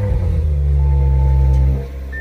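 An Audi RS5 engine cranks and revs loudly up close, a deep steady roar that holds strong before easing down to a lower idle near the end.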